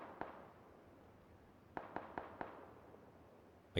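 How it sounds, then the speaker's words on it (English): Distant gunfire in the video game PlayerUnknown's Battlegrounds: one faint crack, then a quick burst of four sharp shots, and another louder pop at the end, all far off over quiet background. "all the gunfire is coming from there"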